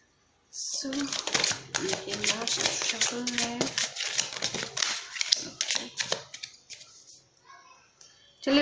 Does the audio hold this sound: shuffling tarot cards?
yes